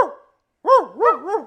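A man imitates a dog bark with his voice, giving three rising-and-falling howl-like barks in quick succession after a brief pause, close and fairly loud.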